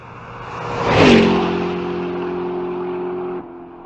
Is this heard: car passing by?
yes